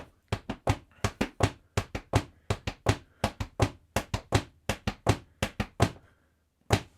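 Quick rhythmic foot tapping in Québec podorythmie style, a galloping three-beat pattern of crisp thuds repeating steadily, then a pause and one final tap.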